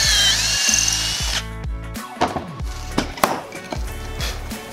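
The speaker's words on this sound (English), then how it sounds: "this jig gives us that screw hole that's angled" A power drill bores an angled pocket screw hole through a pocket-hole jig into a wooden cabinet face frame piece, giving a loud whirring burst before stopping, followed by a series of short pulsed trigger squeezes with clattering wood knocks, close up.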